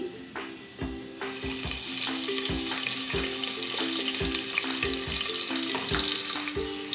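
Three large chopped onions drop into hot oil in a pressure cooker and burst into a loud, dense sizzle. Repeated metallic scraping and knocking of a spoon against the cooker sound throughout.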